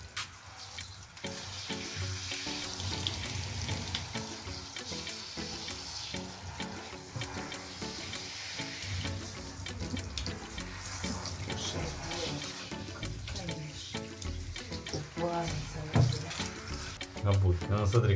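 Tap water runs steadily into a sink or tub while a small Spitz dog is bathed at home, a continuous broadband splashing wash that persists throughout with some low clatter beneath it.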